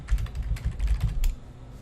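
Close, fast typing on a computer keyboard as a username and password are entered, a run of quick soft key clicks with no voices.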